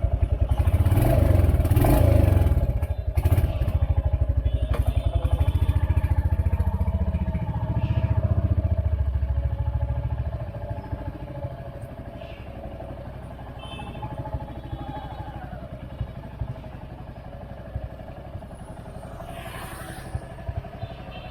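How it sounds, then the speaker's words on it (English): A Royal Enfield Hunter 350 motorcycle starting for the first time, its single-cylinder engine chugging loudly close by before settling into a steady, lower idle with faint mechanical clatter. "This is the first startup of this bike, and here we go. The bike sounds so nice."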